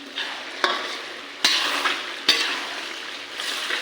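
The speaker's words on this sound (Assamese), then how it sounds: "আদা নহৰুখিনি দি দিলোঁ লাৰি দিম লাহে লাহেকৈ" Ginger garlic paste is stirred into duck curry in a hot pan, with sharp spatula scrapes and knocks over a steady frying hiss, close and fairly loud.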